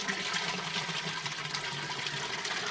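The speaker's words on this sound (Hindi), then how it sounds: "अभी दोस्तों सारी चीज़ें मिक्स करके और इसमें डाल देते हैं हम लोग।" A liquid mixture gushes steadily into a 200 litre tank, a continuous hissing, splashing pour heard close and moderately quiet.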